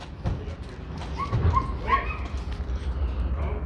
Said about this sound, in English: You hear that dog? That dog wants to jump out.